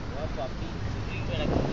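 Double-engine tugboat MT Kildan of Mumbai at sea off Minicoy, Lakshadweep: a steady low engine drone mixed with wind buffeting the microphone across a short stretch.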